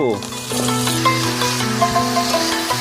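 Fried vegetables sizzle in a spiced masala of ginger-garlic paste, turmeric, chilli and cumin, a close, continuous hiss with faint stirring scrapes beneath a voice talking throughout.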